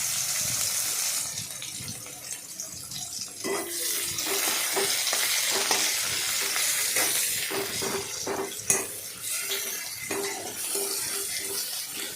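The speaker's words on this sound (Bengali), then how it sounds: "তেল দিয়ে পেঁয়াজগুলোকে ভালো করে ভেজে নিলাম" Onions fry in oil in a kadai, a steady sizzle with occasional stirring scrapes and a few sharp clinks over the continuous frying hiss.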